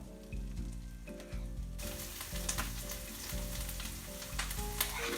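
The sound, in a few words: potatoes and onions frying for hash browns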